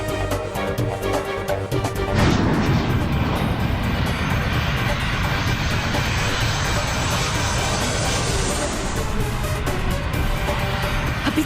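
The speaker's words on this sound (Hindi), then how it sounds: "फिर ये विमान नीचे क्यों जा रहा है?" A fixed-wing airplane engine roars loud and steady as the aircraft descends without its wheels down, low on fuel, a broad continuous rumble and hiss swelling after a brief quieter start.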